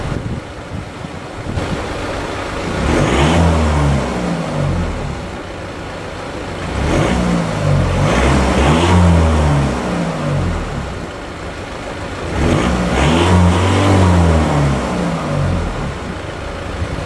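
A 2016 Volvo V40 Inscription D2 diesel car accelerates on a test drive, its engine rising loudly through three separate surges with gear-change dips between them, heard from inside the cabin with steady road noise and no talk.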